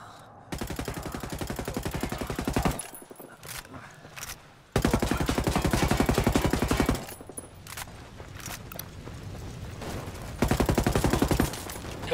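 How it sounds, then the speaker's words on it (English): Automatic gunfire in the video game Ghost Recon Wildlands, loud rapid bursts in several long volleys separated by short pauses, with no speech. "I'm opening fire on these shitheads."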